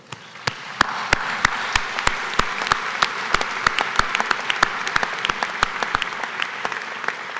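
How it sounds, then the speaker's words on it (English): An audience at a college commencement ceremony applauding the faculty, a dense, steady wash of clapping with sharp individual claps standing out, sustained throughout without talk. "So let's provide them with a round of applause for what they've done."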